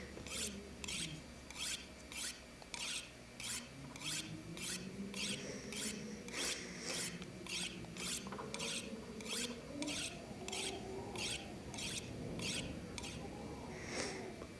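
Steady rhythmic rasping strokes of a tool being sharpened in The Long Dark survival game, about a dozen and a half evenly spaced scrapes, clear and close over a faint low background.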